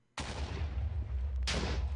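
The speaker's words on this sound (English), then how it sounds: "Explosions! Explosions! Explosion!" Two loud, booming blasts of Minecraft explosions, the second following about a second and a half after the first, each breaking into a long rumbling roar. No one speaks.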